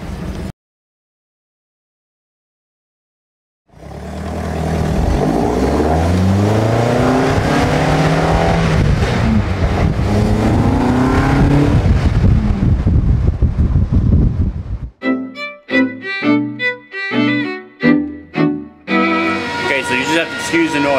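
A GTV's engine revs hard past 5,000 RPM and climbs in pitch as it accelerates, loud and close with wind rush, then drops into choppy bursts as gears shift.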